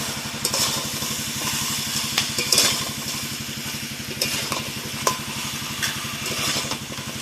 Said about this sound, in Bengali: ট্যাংরাটা দিয়ে দিয়েছি, এইভাবে ফের আবার ভালোভাবে কষাবো।